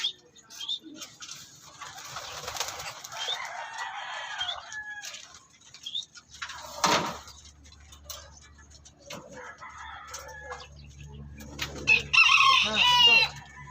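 Roosters crow in bursts and cluck intermittently at close range, with several loud calls spread across the scene and someone speaking briefly between them.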